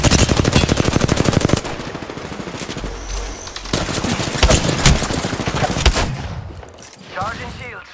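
Enemy gunfire in a first-person shooter game: a rapid automatic burst opens loudly, followed by scattered shots and sharp cracks at varying distances, with someone talking over parts of it.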